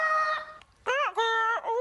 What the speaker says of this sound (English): Wonder what kind of sound a Humpty bird would make.